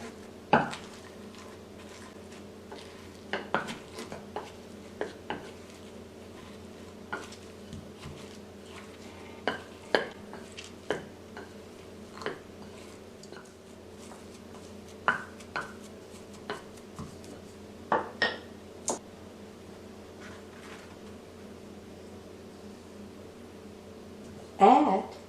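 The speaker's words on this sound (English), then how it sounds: "With a pestle, mash them until a smooth and slightly chunky texture is formed." A pestle mashes plantain slices with bacon bits and garlic mixture for mofongo, giving soft intermittent thuds and knocks against the mortar, irregular and fairly quiet over a low steady background hum.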